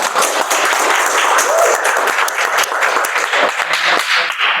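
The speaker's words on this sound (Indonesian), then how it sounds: "Tepuk tangan dulu Pak Bayu." Steady applause from an audience fills the room at a campus management-programme gathering, dense clapping sustained throughout and fairly close, with no talk over it.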